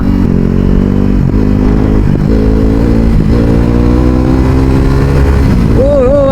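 A sport motorcycle, a Kawasaki Ninja ZX-10R or KTM RC 390, roars loudly and continuously while being ridden, its engine pitch rising and dipping through repeated revs and gear changes, with a voice faintly mixed in.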